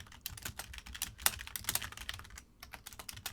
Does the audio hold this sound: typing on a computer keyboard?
yes